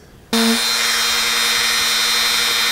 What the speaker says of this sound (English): Now I'm gonna go back with the Dremel and then make these indentions just a little bit deeper.